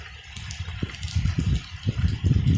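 A flooding river rushes past in a continuous gushing roar, with uneven surges of water swelling louder toward the end, no one talking.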